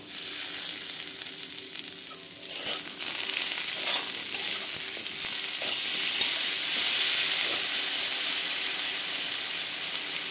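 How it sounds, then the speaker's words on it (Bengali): Papaya and potato pieces fry in a pan with a steady, loud sizzle and hiss that builds slightly midway, with occasional stirring scrapes and no talking. "আমার পেঁপে আলুটা ভাজা ভাজা হয়ে গেছে"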